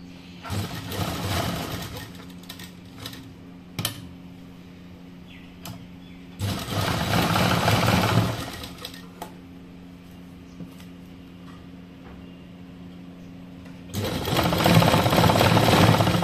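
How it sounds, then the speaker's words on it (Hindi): A sewing machine stitches a kurti sleeve along a marked line, running in three steady bursts of whirring, rattling stitching separated by quiet pauses with faint handling noises. "अब इस निशान के ऊपर ही सिलाई चला लेंगे।"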